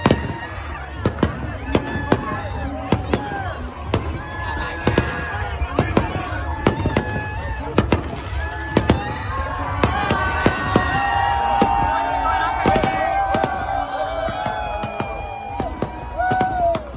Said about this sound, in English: fireworks went off.